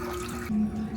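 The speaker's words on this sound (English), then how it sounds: "A little bit of water rolling uphill." Water trickling and splashing in a small museum display where a little stream seems to roll uphill, a short close steady flow with a faint tonal hum.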